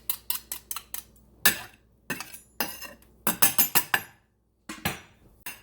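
Spoon stirring marinade ingredients with ground pepper and minced garlic in a bowl, making quick clinking scrapes in rapid bursts with short gaps, close and without talk.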